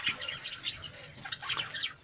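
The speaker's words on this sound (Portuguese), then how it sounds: "Olha os periquitos ali, ó." Parakeets, including a female Belgian, chirping: a quick flurry of thin, high tweets and twitters, close and fairly faint, over a faint background hiss.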